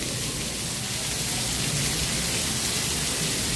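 Steady heavy rain pours down at Epcot, a dense, even hiss of drops striking surfaces with no breaks.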